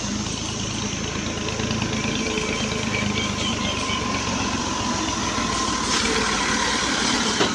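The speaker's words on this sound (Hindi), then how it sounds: "ये भी ट्रैक्टर हमारी तरफ आ रहा है।" A tractor mowing grass in a large field plot, its engine a steady continuous drone that holds at constant loudness throughout without any speech.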